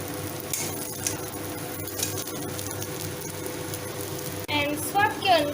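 Veg hakka noodles are stirred and tossed in a hot pan, a steady sizzle with scraping and clinking of the utensil, and a brief voice near the end.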